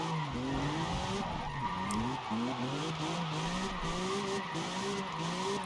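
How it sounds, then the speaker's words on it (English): A car slides and drifts on drift suspension and stock tires in a racing video game: a steady, loud engine drone with wavering pitch and continuous tire squeal, no talking. "It's so easy to slide. It's easy to catch because it's the drift suspension."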